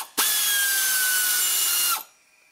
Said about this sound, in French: Allez c'est parti, on dévisse tout ça.